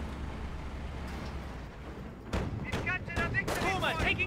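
Artillery shells from a barrage explode during a Company of Heroes match. Heavy booms and cracking blasts pile up in the second half, loud over steady background rumble, with voices talking underneath.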